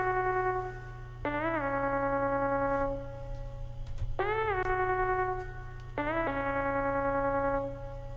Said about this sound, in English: Up next, I wrote this other little counter melody.